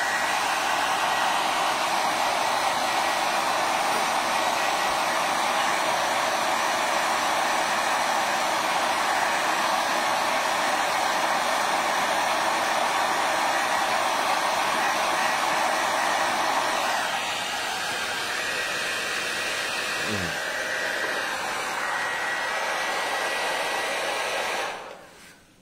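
A heat tool blowing hot air to soften wooden mouldings until flexible: a loud, steady whooshing hiss that runs unbroken, eases slightly in tone partway through, then shuts off at the end.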